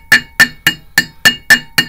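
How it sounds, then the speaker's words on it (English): A small ball peen hammer taps seven times in an even, quick rhythm, driving a seal by hand during a Subaru EJ25 clutch install, each strike a sharp, close metallic knock with a short ringing tail. "driving seals and bearings with my little ball peen hammer"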